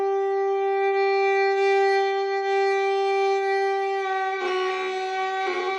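A virtual bowed string instrument from Swam, played with high bow pressure, sustains one steady pitched note that turns harsh and scratchy toward the end, with gritty bursts near the finish.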